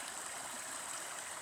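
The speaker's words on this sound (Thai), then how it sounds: "น้ำไหล" Flowing water in a rural setting, a steady soft rushing hiss like a stream, quiet and continuous with no voices.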